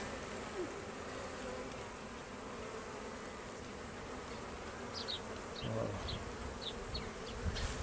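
Honeybees buzz thickly around an open hive during a spring inspection of a weak colony, a dense, close, continuous hum with single bees whizzing past near the microphone.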